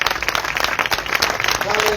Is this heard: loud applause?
yes